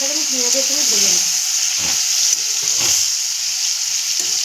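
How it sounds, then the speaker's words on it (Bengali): Chicken frying with onions in a pan, a loud steady hiss and sizzle close up, with a brief voice speaking at the start and a few soft stirring scrapes. "সুন্দরভাবে মাংসটাকে আমি পেঁয়াজের সঙ্গে ভেজে নেব।"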